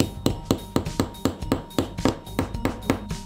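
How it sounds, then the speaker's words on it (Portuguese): A hammer strikes rock again and again to expose a fossil, giving a dozen sharp, evenly spaced clinking blows at about four per second, loud and close with no talking. "Vou tentar quebrar essa parte aqui com o martelo."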